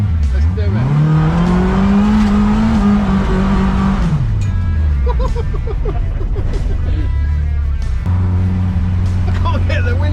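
A race car engine revs hard from inside the windowless cabin, pitch climbing and holding before dropping off around four seconds, then idling low and rising again near the end, loud throughout with speech over it.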